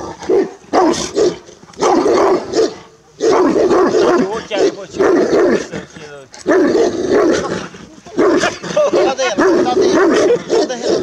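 A large Romanian Raven Shepherd dog barks in loud, deep bursts close by, repeated in rapid volleys with short pauses, while people talk nervously over and between the barks.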